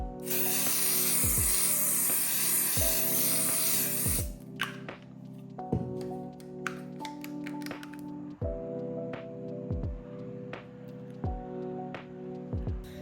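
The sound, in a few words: spraying MAC setting mist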